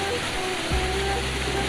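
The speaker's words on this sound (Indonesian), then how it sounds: "Hujannya tambah deras" Heavy rain pours steadily over a village, a dense continuous hiss that stays loud and even throughout, with a brief low thump partway through.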